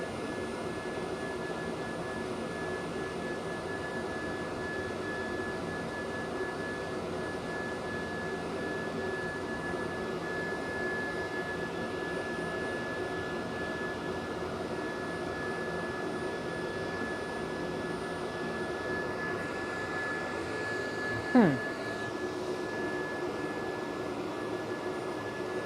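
Steady broadband whoosh of computer fans pushing air through a newly installed water-cooled PC loop, constant and fairly loud throughout, with a single brief sweeping tone near the end.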